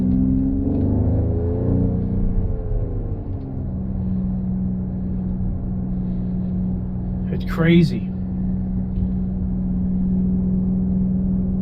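A 2025 Mercedes-AMG GLE 53 engine revs up with rising pitch, then settles into a steady rumbling drone; someone speaks briefly partway through.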